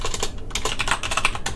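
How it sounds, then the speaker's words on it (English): Fast, uneven typing on a computer keyboard, crisp key clicks in a close, continuous flurry with a few brighter clacks. "this is quite a keyboard"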